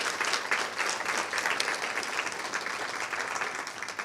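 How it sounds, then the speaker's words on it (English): An audience at a school district news conference claps steadily in a sustained round of applause, moderately loud and even throughout with no voices over it. "give them a round of applause if we can"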